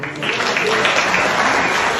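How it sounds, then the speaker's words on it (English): Audience applause, a dense, steady wash of many hands clapping at once, loud and sustained for the whole two seconds without a break. "So a death penalty and a round of applause."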